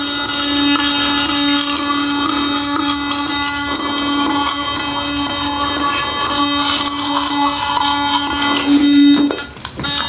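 An electric toothbrush running in gum care mode gives a steady, close mechanical buzz with a pitched tonal drone that holds for about nine seconds before cutting out near the end; no one speaks.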